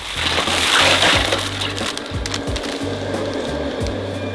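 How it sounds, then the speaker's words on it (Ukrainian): Ice poured into water: cubes tumble and clatter in a brief crunchy pour, with a soft splashing rush, close by and fairly loud, no voices. "Висипаємо її у воду."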